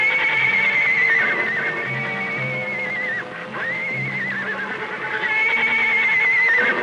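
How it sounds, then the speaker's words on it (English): Indian ponies in a ranch corral whinny repeatedly, loud, shrill neighs rising and falling one after another with faint hoof movement beneath, no talk. "Indian ponies in the corral."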